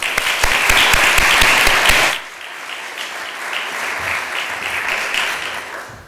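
A lecture hall audience applauds to welcome lecturer Sandra Kaji O'Grady. The clapping is loud and dense at first, then drops sharply to a softer, thinner patter that carries on.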